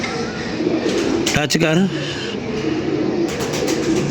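Pigeons cooing close by, a soft throaty coo rising out of a noisy room while someone talks over it, with rustling and handling throughout.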